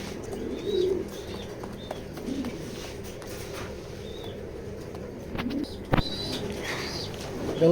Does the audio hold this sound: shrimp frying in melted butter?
no